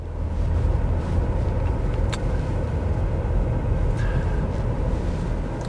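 A Ford Maverick Hybrid pickup pulls away from a stop at full steering lock, its steady low engine and road rumble continuous and close, with no talk.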